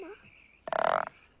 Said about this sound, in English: That's only a little frog, my love.